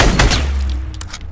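Dense, loud gunfire bursts out in a high-kill duo match of a shooting video game, a rapid close volley of shots that trails off into scattered thuds.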